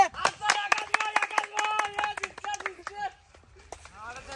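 Applause for the winners at a funny swimming competition prize-giving, a few seconds of sharp hand claps from a small crowd mixed with loud overlapping voices, thinning out toward the end.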